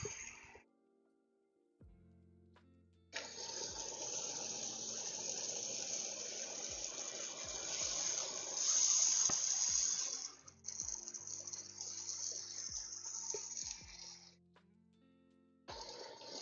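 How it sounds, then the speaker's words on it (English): Water poured into a hot pan of cooking steak sets off a loud, sustained sizzling hiss lasting several seconds, with clattering and softer handling noises before and after. "Putting water in the pan and covering it feels like blasphemy"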